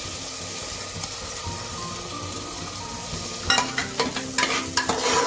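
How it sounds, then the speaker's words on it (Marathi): Pavta beans frying in oil in a pan, with a steady close sizzle that becomes busier in the second half as repeated spoon scrapes and clinks stir them, no talking. "पावटे चांगले भाजून घ्यायचे ते तेलामध्ये अर्धा चमचा"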